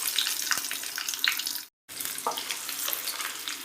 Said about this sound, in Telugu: పోపు గింజలు కొంచెం వేగిన తర్వాత ఒక 3 నుంచి 4 వెల్లుల్లి రెబ్బలు ఇలా దంచుకొని వేసుకోవాలి.